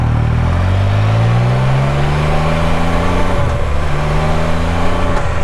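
An old Can-Am Spyder three-wheel motorcycle engine drones steadily while riding, its low rumble climbing in pitch through the gears, loud and close throughout.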